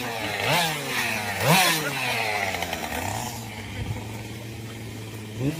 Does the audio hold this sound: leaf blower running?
yes